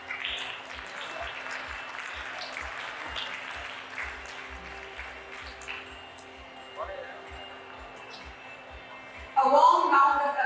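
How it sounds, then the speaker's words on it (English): Applause from the audience at the inauguration ceremony of the Flynn Sports Complex, following a memento felicitation, spreads as a steady, moderate clatter over a low electrical hum with soft periodic thumps, then swells louder near the end. "A warm round of applause for their invaluable contributions"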